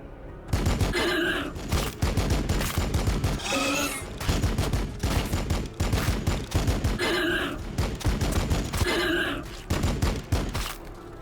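Heavy gunfire rages in Battlesector, a Warhammer strategy game, with dense, relentless bursts of rapid shots that keep up almost without pause, and short grunting voice lines cutting in between.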